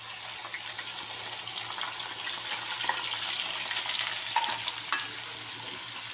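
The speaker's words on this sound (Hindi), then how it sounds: "अब हम जो है ये प्याज डाल रहे हैं।" Onions sizzle in a pan with garam masala while cooking mutton kaleji masala, a steady close frying hiss with occasional stirring scrapes, no talk.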